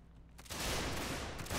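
A sudden musket volley in a Civil War-era battle in the Federal Fighting Force North & South game, breaking out after a brief lull into a loud, rolling crackle of many rifles firing together.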